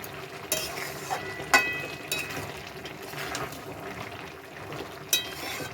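Malabar spinach greens are stirred in a pan with a spoon, giving a wet, soft sizzle with irregular scraping strokes and a few sharper clinks against the metal.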